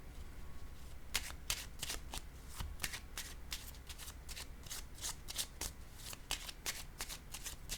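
Cards shuffled for a card reading, a steady run of crisp riffling bursts repeating every half second or so, close and clear over a quiet room.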